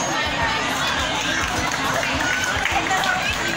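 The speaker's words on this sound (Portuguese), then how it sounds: "E a eles eu peço uma salva de palmas." Crowd at a family-farming fair on Avenida São João in Santana do Acaraú applauding the farmers: continuous dense clapping mixed with chatter, steady and moderately loud throughout.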